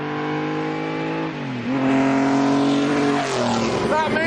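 A Maserati with a 2.5-litre straight-six engine revs hard, its loud rasping note dipping then climbing as it accelerates, close and continuous with no voices.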